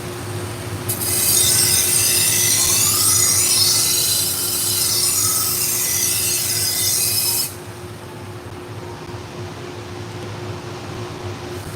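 A 7-inch knife blade is sharpened on a powered sharpener, a loud high-pitched grinding squeal held for about seven seconds over a steady machine hum that continues after the blade comes off, with no talking.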